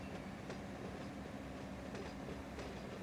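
Freight train in the Run 8 simulator rolling downgrade through a yard with dynamic brakes applied, a steady loud rumble of wheels and cars with faint periodic clicks and no talking.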